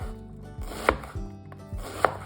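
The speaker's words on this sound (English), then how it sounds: "starting by chopping 1 cup of Spanish onion" A few knife strokes chopping Spanish onion on a cutting board, two sharper clicks standing out among soft repeated cuts, close and fairly quiet, no talking.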